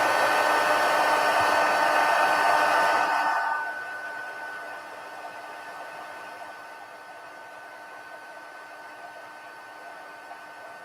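A heat embossing tool blows hot air over embossing powder on a handmade sympathy card, a loud steady whirring hiss for a few seconds that then drops to a quieter, constant hum, no talking.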